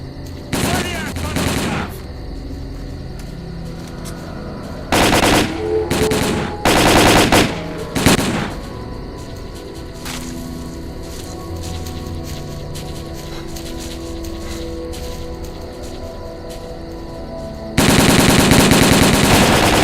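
Gunfire bursts in S.T.A.L.K.E.R.: Call of Pripyat, loud clusters of rapid automatic shots and single cracks separated by quieter ambient stretches, ending in a sustained heavy burst of fire.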